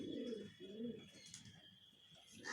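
A male Punjabi Malwai pigeon coos in a home loft in a quiet, repeated rolling pattern of several close coos, with faint chirps and a steady background hum.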